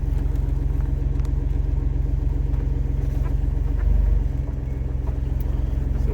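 A passing car on a country road lined with tall old hedges, a steady low engine rumble that swells briefly near the end as it goes by, with a nearby idling vehicle droning underneath.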